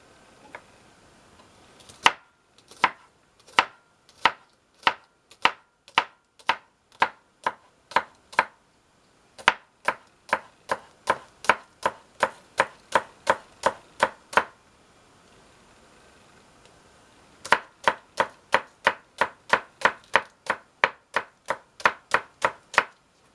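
Scallion being chopped with a knife on a board in rapid, even bursts of crisp thuds, several runs of a dozen or so strokes separated by short pauses, close and clear with no talking.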